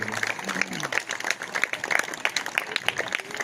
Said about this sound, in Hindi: उनके लिए भी जोरदार तालियां बजा दीजिए।